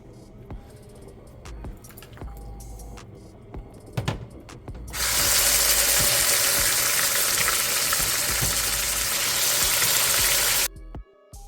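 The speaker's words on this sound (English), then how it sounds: "So in goes the beef." Stewing beef drops into a hot pot coated with brown sugar, setting off a loud, steady frothing sizzle that lasts several seconds and then cuts off, after a few clanks and rattles at the stove.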